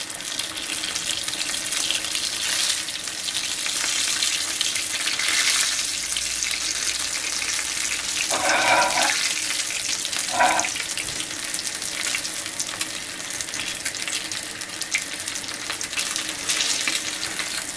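Pizza fries in a pan with a steady, dense sizzle that holds for many seconds, with brief bursts of crackle and no talking.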